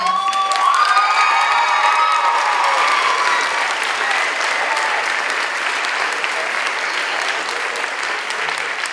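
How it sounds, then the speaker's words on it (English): Middle school audience applauding eighth-grade performers at a school musical, loud dense clapping with whoops and children's shouts, strongest at the start and easing slightly as it goes on. "So let's give them a round of applause."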